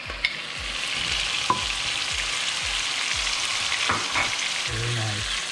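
Butter sizzles steadily in a hot pan, a constant loud frying hiss with faint scraping stirs and small clicks, no voices.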